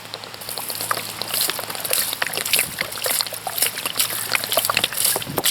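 Water pours steadily onto leaves and wood chips packed in a compost worm tower, a dense continuous patter and splash with many small droplet hits throughout.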